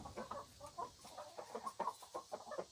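Older hens cluck and murmur nearby in a steady stream of soft, overlapping calls, with no voices over them.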